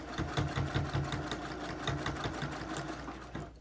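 A sewing machine stitches along a folded fabric edge of a cloth face mask, a steady close run of rapid needle strokes with a few brief pulses in speed before it stops.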